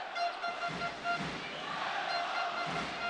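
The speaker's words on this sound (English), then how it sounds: "They haven't played with these drums that you can see in the crowd" Drums pound through a roaring basketball crowd at a FIBA Asia Cup game between Iran and Lebanon, with a steady rhythmic thump under dense, loud crowd noise.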